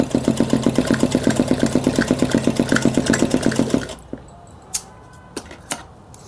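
A sewing machine stitches a ladies suit in a fast, even run of close mechanical clatters for about four seconds, then stops, leaving a few scattered clicks and handling knocks.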